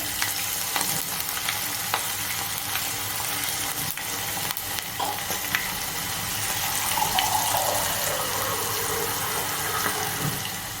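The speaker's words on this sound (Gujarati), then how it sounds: "લીલા મરચાં નાખીશું. કરી પત્તા નાખીશું આપણે." Green chillies and curry leaves crackle and sizzle in hot oil with turmeric for a Kathiyawadi-style snack. A steady, busy frying hiss with scattered pops and small clinks runs throughout, and no one speaks.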